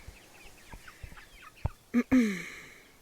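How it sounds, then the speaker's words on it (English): A black backyard chicken clucks softly a few times up close, then gives two louder, drawn-out squawks near the end, with no talking. "So this chicken right here."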